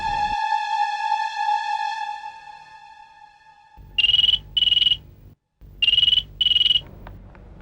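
A phone ringtone with a steady sustained electronic tone comes first, then a ringback of two short paired bursts, a brief gap, and two more paired bursts. It is loud and close, there is no talk, and it comes from a call being placed to the police.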